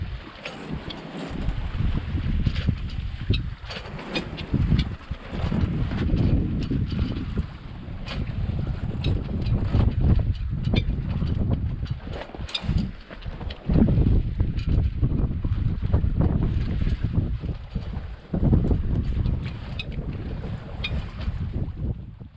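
Light wind of under five knots at sea aboard a solo sailboat on the Atlantic, a steady close rush of breeze across the microphone mixed with water washing along the hull, continuous and fairly loud.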